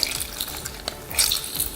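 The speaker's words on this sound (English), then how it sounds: "we'll split these lemons that we just zested in half, and we'll squeeze out the lemon juice" Halved, freshly zested lemons being squeezed by hand for juice in a kitchen, giving close, wet squelching and brief dripping bursts with no talk.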